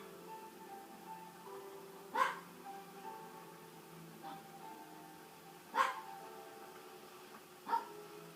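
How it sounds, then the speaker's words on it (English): A dog barks a few times in the distance, three short separated yaps over a quiet room background, with faint whimpering between them. "My uncle's dog does not know how to shut up."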